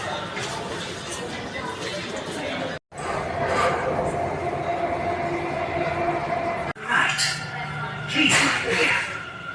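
A metro train at a Delhi station rumbles and hums steadily with rail noise and brief clatter, moderately loud, while people chatter in the background.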